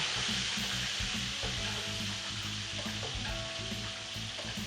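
Perkedel patties, mashed potato cakes, fry in hot oil in a home kitchen, giving a steady, dense sizzle with crackling pops that runs unbroken throughout, close and alone with no talk.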